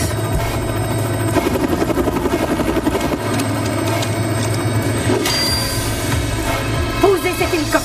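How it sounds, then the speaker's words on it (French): A helicopter flies in a dramatic film scene, its loud rotor chop and turbine whine filling the soundtrack steadily, layered with swelling music and other effects. "Posez cet hélicoptère, général."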